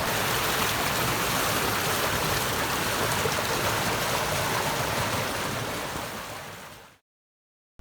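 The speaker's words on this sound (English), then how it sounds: "we are finally down at the natural level of the Sywell bottom stream, calm and tranquil" Sywell Reservoir's bottom stream runs in a steady, full rush of flowing water, continuous and close, holding constant before cutting off abruptly near the end.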